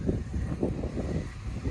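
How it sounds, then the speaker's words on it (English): Steady low wind rumble buffeting the microphone at Ramsey Cemetery near Cassville, Wisconsin, gusting unevenly throughout with no voices. "It is a windy day out here"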